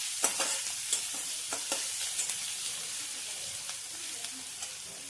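Green chillies and garlic sauté in a pan, giving a soft, steady sizzle. A spoon stirs them, making a few light scraping clicks.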